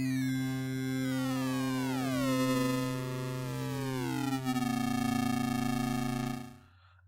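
Sustained synth tone run through a downsampler distortion effect, a buzzy, harsh harmonic drone whose pitch glides and bends before cutting off at the end, alone without speech.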